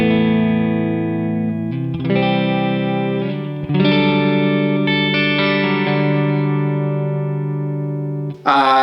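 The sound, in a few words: electric guitar through reverb pedal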